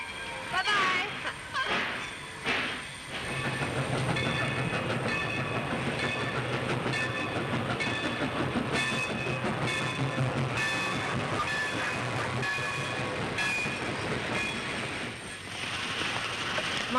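A passenger train running on rails in a 1933 film, a steady rumbling clatter of the cars that continues throughout the scene, with voices talking over it.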